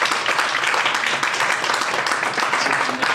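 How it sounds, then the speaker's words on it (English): Applause from the audience at a panel discussion on designing a digital platform commission, steady dense clapping filling about three seconds at moderate loudness with no talk over it. "We'll give a round of applause to Harold and also to Alissa."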